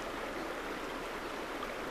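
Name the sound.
flowing river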